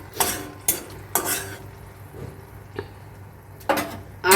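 Two whole dried red chillies hit hot oil in a pan for a Bengali katla fish kalia, with a few bursts of crackling sizzle and spoon scrapes close by, no talking.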